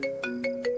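A telephone ringtone sounds close by and goes unanswered, giving four short, evenly spaced electronic tones in a quick repeating pattern.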